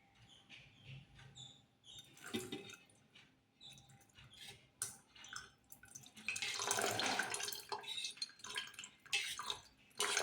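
Milk is poured into a container of gathered cream to be churned for butter, a liquid splashing and trickling sound that swells loudly in the latter half after quieter knocks and handling noises.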